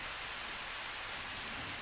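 Steady, even hiss of rainfall in the video game Harvest Moon: Back to Nature, with no distinct drops or breaks, soft and continuous throughout.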